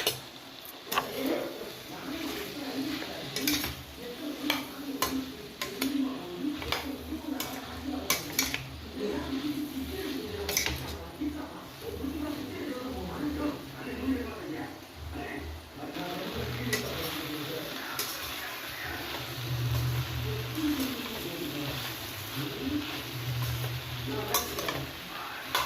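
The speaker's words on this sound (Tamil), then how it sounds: "நல்லா கிளறி விடுங்க. தீயை குறைச்சி வச்சுருங்க." Okra pieces are stirred in a frying pan over lowered heat, with a steady soft sizzle under repeated scraping and clinking of a utensil against the pan, close and continuous throughout.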